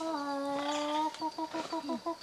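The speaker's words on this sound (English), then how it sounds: "There's a bunch of wild chickens there that decided to pose for a picture." A wild chicken in Hawaii lets out a long drawn call, then a rapid series of short clucks follows, close and fairly clear.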